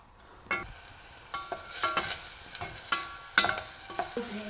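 Garlic and onion sautéed in oil, with repeated close scraping strokes of a spoon across the pan over a soft crackling sizzle, in uneven bursts.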